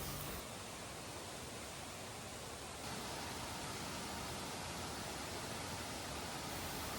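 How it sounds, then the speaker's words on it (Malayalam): The Aruvikkuzhi seasonal waterfall, swollen by rain, roars as a dense, steady wash of rushing water without a break, heard up close with no voices. "ഇതൊരു സീസണൽ വാട്ടർഫോളാണ്"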